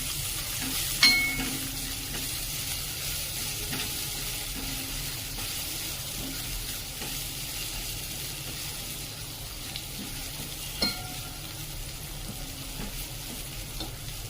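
Garlic, ginger and finely chopped onion sauté in a pan, giving a low, steady sizzle throughout, with a couple of brief utensil clinks near the start and again later.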